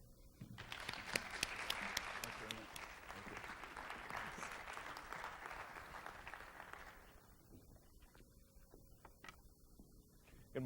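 An audience at a forum applauds to welcome Reverend David Ostendorf, a sustained burst of clapping from a room of people that fades after about seven seconds, leaving scattered claps and room noise.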